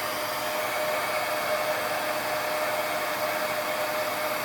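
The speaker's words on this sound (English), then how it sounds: "let's get our heat tool heated up" An embossing heat gun for craft work blows hot air in a steady, unbroken whoosh, close and fairly loud, with a faint high whine running through it and no other sounds.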